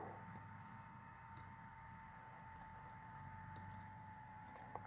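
Someone typing a web address on a computer keyboard, with soft scattered key clicks over a steady electrical hum and background noise, no talking.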